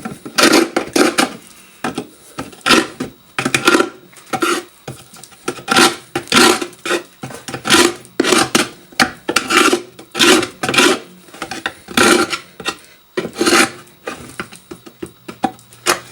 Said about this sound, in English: here in the channels that the frames sit in, we're just sort of scraping that out